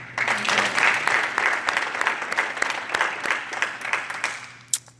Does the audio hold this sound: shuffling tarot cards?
no